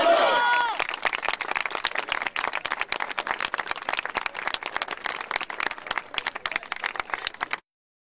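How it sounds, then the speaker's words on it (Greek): Children at a youth basketball Final-4 event shout a name in unison, then burst into sustained loud applause, a dense crackle of many hands that carries on steadily before cutting off. "Χειροκροτούμε όλοι μαζί και φωνάζουμε με το 3 Μύκονος"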